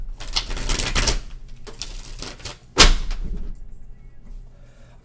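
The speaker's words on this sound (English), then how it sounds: "Shuffle one more time." Tarot cards shuffled by hand in a few quick riffling bursts, close and crisp, with a sharper snap near the middle and quieter handling between.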